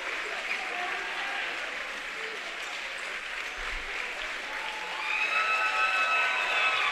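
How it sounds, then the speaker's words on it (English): Loud, steady crowd noise at a high school boys' basketball game, a broad wash of cheering and applause that swells even louder toward the end, with a few shrill whistles or shouts rising above it. "Look at the loud crowd out here."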